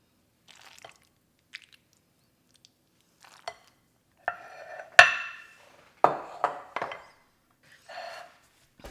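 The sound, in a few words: mixing and dishing macaroni salad into a bowl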